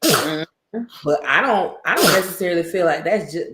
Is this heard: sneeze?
yes